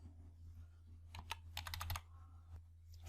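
A few quick keystrokes tap out a number on a computer keyboard, close and soft, in a short burst of clicks followed by a single later press over a faint electrical hum.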